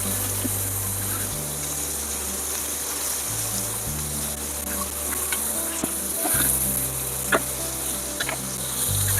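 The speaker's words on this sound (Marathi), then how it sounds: "आता या कोळंब्या आपण स्लो गॅसवर फ्राय करत ठेवूया, लो फ्लेमवरती." Prawns frying in hot oil over a low flame, a soft continuous sizzle and crackle sitting under a steady low hum, with a few faint clicks and spits.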